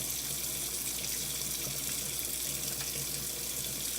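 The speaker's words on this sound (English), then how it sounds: "When rinsing, be sure to remove all of the soap from your body." Steady stream of water running from a tap while hands are rinsed under it, a continuous close hiss with no talking.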